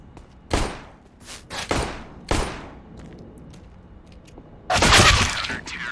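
Several sharp gunshots from USP pistols in a Counter-Strike match crack out in an uneven burst, followed by a louder, longer burst of fire near the end.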